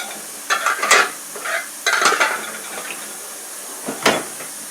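Pots and pans being washed by hand in sudsy water: sloshing and swishing with intermittent clinks and scrubbing bursts, close and steady, with no talking.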